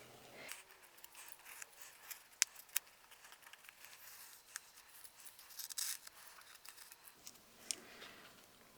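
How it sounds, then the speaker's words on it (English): Masking tape peeled slowly off dried watercolor swatch paper, a soft continuous ripping and rubbing with a few sharper ticks, quiet and close, with no talking. "Let's do a little tape pull."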